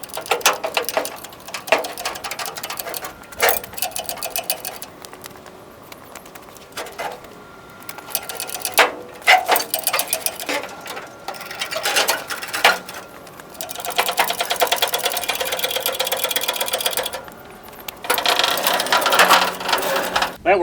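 A ratchet strap and chain rigged in an X pattern hoist the box off a Jeep FC-150 Forward Control, giving repeated bursts of clicking and grinding mechanical ratcheting with brief pauses between pulls.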